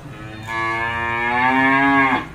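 A cow at a cattle farm gives one long, loud, close moo lasting nearly two seconds, rising and then dropping off, over low background noise.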